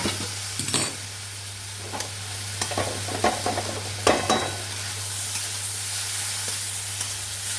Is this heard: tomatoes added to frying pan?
yes